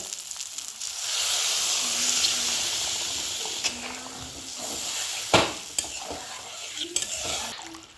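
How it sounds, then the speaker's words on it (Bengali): Water poured into hot masala and oil in a pan for a fish curry, bursting into a loud hissing sizzle that gradually settles, with a few sharp utensil knocks and stirring clatter nearby. "এবার এর মধ্যে দিয়ে দিচ্ছি পরিমাণ মতো জল"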